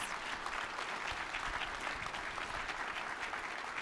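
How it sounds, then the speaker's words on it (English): A crowd at a state legislative breakfast applauds steadily, a dense wash of clapping that holds at an even level for a few seconds with no break. "Let's give them a round of applause."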